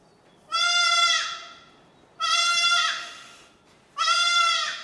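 A goat bleats loudly three times, each call long and wavering, with short quiet pauses between them.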